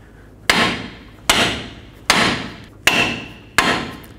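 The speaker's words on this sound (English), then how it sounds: "If your tie rod is stuck in there, then use a hammer, tap right here on the knuckle until it breaks free." Five evenly spaced hammer blows ring out on the steel steering knuckle of a 2007-14 Chevy Silverado's front suspension to free a stuck tie rod end, each a sharp metallic strike with a short fading ring.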